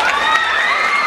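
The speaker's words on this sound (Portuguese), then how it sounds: "Uma salva de palmas para a professora Dilma aqui, ó." Students cheer, shout and clap for their teacher at a school Arraiá festival, a brief burst of excited crowd noise with high children's voices.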